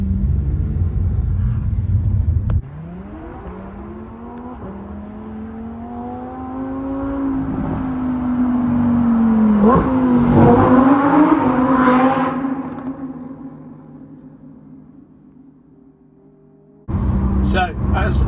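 A 2020 Lamborghini Huracan EVO RWD with its 5.2-litre V10 sending 610 hp to the rear wheels revs loudly, its pitch climbing and swelling to a peak before fading. A sudden loud burst of engine noise returns right at the end.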